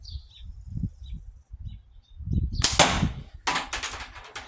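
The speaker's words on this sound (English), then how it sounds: "So I'm gonna shoot them long draw." A heavy-band slingshot fires heavy ammo at a can ten meters downrange, heard as two sharp broadband cracks in close succession, loud against low outdoor background rumble.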